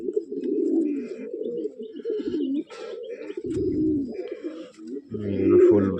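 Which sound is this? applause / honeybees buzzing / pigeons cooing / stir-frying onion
pigeons cooing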